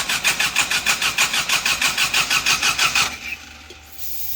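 A weak-battery car engine cranks on a Mopar in Michigan, a steady, sluggish, rhythmic churning of about fifteen even pulses that stops abruptly, leaving a faint hum.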